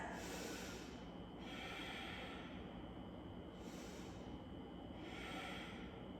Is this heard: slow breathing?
yes